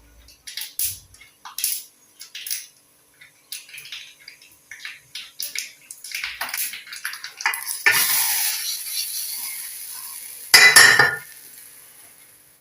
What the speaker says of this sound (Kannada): ನೋಡಿ, ಈಗ ಒಗ್ಗರಣೆ ಆಗ್ತಾ ಇದೆ